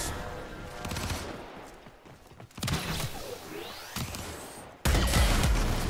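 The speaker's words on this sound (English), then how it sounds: "Stop shooting me in the back!" Video game gunfire rattles in short bursts and scattered shots, moderately loud, separated by quieter gaps with whooshing effects, ending in a louder burst.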